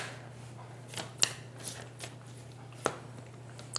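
Tarot cards drawn from a deck one at a time, a few soft papery flicks and snaps spread out over a quiet room with a steady low hum underneath.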